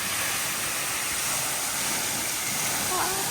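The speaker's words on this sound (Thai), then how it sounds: "โอ้น้ำตกสูงกว่าที่คิด" A waterfall in Madeira dropping from a cliff onto a road, heard as a constant broad rushing roar, close and loud without break; a voice speaks under it.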